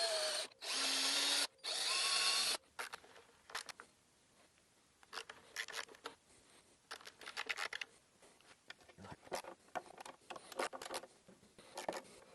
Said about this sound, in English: I'm just going to line up the hinge right between those marks and drill it out.